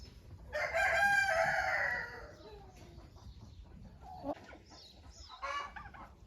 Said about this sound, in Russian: Эти два петушка стареньких моих шелковых тоже остаются.